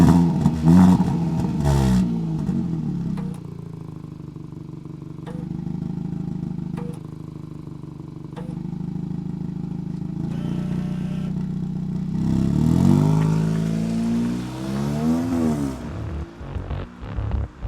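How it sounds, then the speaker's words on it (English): Kia Ceed GT facelift hot hatch exhaust, idling with several sharp throttle blips, then a longer rev rising and falling near the end, close and loud with no talk. "you might want to hear how the exhaust system sounds like in normal and sport mode"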